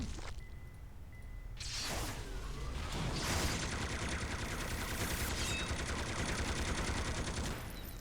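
Dense bursts of enemy gunfire in the superhero video game City of Heroes, a continuous rattling barrage of rapid shots with whooshes, loud and sustained for several seconds with no talking.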